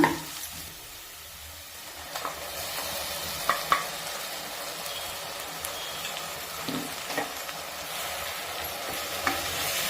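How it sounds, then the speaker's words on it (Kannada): Ground tomato sizzles in a pan of well-fried onions for a fish curry, with a continuous close frying hiss and occasional spatula knocks and stirring scrapes; no talking. "ಈಗ ಈರುಳ್ಳಿ ಚೆನ್ನಾಗಿ ಫ್ರೈ ಆಗಿದೆ, ರುಬ್ಬಿಟ್ಕೊಂಡಿರುವಂಥ ಟೊಮೆಟೊ ಹಾಕೋಣ"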